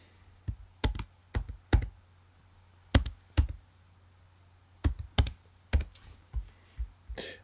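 A password is tapped out on a computer keyboard in short bursts of crisp, close key clicks separated by brief pauses, over a faint steady hum with no talking.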